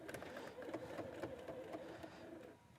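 A sewing machine runs steadily while stitching binding onto a quilt edge with a quarter-inch seam, including a brief backstitch, making a continuous whirring, rattling hum at moderate close range that eases off near the end.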